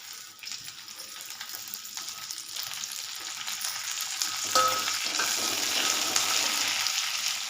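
Curry leaves hit hot oil with cumin and spices in a pan, a rising crackling sizzle that grows louder midway and holds steady, close and without talk.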